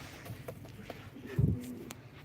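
Live pigeons at a pigeon auction give a low, soft coo close by amid quiet background rustle and a few faint clicks, with no talk.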